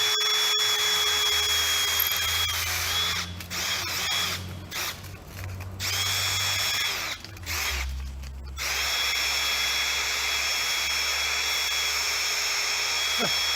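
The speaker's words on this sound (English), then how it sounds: "I figure if I put on the drill and spin it, I can sand it." A power drill whirs steadily, briefly cutting out and restarting several times, with a faint rubbing of sanding against wood beneath the motor's hum as the drill spins a wooden door handle to sand it.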